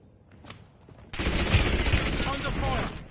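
A sudden burst of heavy gunfire in a Call of Duty match erupts after a quiet start and keeps rattling loudly, with a voice heard briefly near the end.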